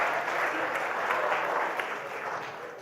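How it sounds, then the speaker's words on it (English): An audience at a TEDx talk in Broward applauds themselves, giving a steady wash of clapping that holds for about three seconds before fading slightly. "give yourselves a round of applause"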